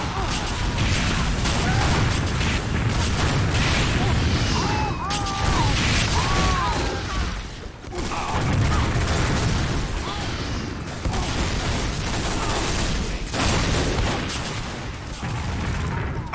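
Machine gun fire in a video game map demo, a near-constant loud rattle of automatic shots with booms and mechanical clatter mixed in, sustained over the whole stretch with brief dips.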